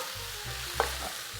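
Ground meat frying in a pan for a tamale pie, stirred briefly with one soft scrape standing out over a steady low sizzle, close and moderately quiet.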